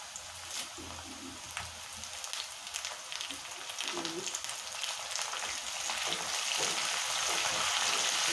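Curry leaves drop into hot oil in a pan for ivy gourd fry, giving a faint, fine crackling sizzle that grows slightly louder toward the end, with no talk.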